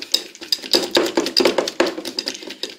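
A spoon or whisk scraping and clinking against a bowl while chocolate cake batter with butter is mixed, a quick irregular run of close, bright knocks and scrapes.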